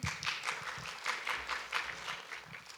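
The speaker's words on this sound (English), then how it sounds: "Let's welcome him with an applause." A small academic conference audience gives faint, sparse applause to welcome a speaker, with scattered claps pulsing unevenly and fading near the end.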